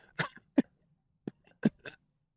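Several short, dry coughs come in quick sharp bursts, a pair then a few more, fairly quiet and close with silence between.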